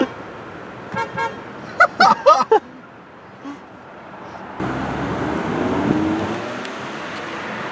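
A car horn blares in several short, loud honks, then gives way to road noise from a moving car.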